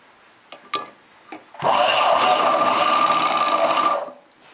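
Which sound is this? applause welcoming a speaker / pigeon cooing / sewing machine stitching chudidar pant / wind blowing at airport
sewing machine stitching chudidar pant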